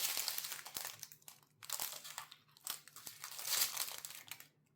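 Large plastic bags from a DAC electronics kit crinkle and crunch close up as they are handled and cut, in uneven bursts with brief pauses between them.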